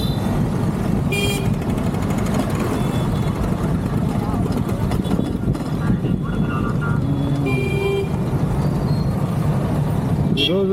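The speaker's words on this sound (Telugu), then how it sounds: "ట్రాఫిక్ ఎక్కువగా ఉంటుంది జనాల్లో" Heavy road traffic of cars and buses on a crowded street by an old government hospital, a continuous dense engine rumble and hum with voices mixed into the din throughout.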